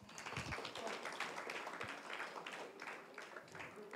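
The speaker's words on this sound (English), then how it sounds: "okay, round of applause, everyone" Scattered applause from an audience at a talk on using LinkedIn, as volunteers come forward: a soft, fairly distant patter of claps that holds for several seconds with a few louder taps.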